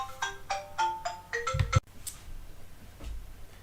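A phone ringtone plays a quick run of melodic electronic beeps, close and clear, then cuts off suddenly, leaving faint room tone and a soft thump.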